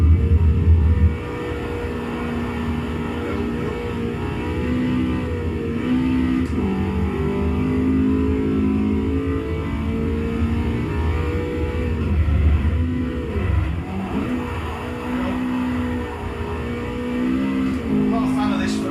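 A Ferrari racing in Forza on Xbox 360, its engine a sustained droning whine that rises and falls with shifts and throttle, loud and continuous, with someone talking over it.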